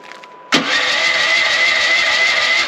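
A mini excavator's engine cranks and catches abruptly, then holds a loud, steady roar as the throttle is raised, close by, with nobody speaking over it.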